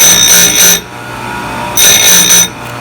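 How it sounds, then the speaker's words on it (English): A grinding wheel sharpens a chainsaw tooth in two loud, shrill bursts of about three-quarters of a second each, separated by a quieter pause, close up and with no talking. "I just want to grind it kind of in pulses like that"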